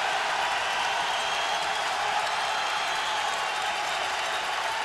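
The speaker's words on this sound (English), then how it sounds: "Listen to this crowd now." A packed arena crowd at a college basketball game between Providence and Texas roars in a steady, dense wash of cheering that holds at the same loudness throughout, with no distinct voice rising above it.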